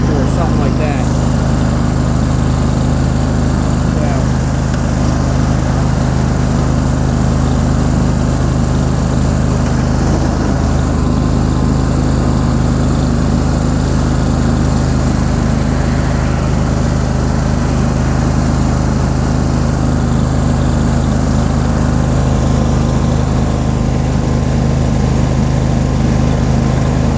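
A Cub Cadet GT2550 lawn tractor engine runs at top speed, a loud, constant droning roar close by with no letup for the whole stretch.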